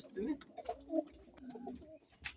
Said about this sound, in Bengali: কিং কবুতর অনেক বড় কবুতর।